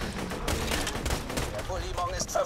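Rapid gunfire in the co-op shooter Borderlands 2, played as a Gunzerker: dense bursts and rattling shots crowd the whole moment, with game effects and faint voice sounds mixed in.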